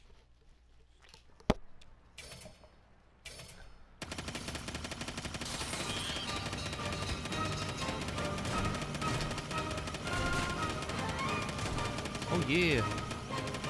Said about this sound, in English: Oh, we get to play with cannons.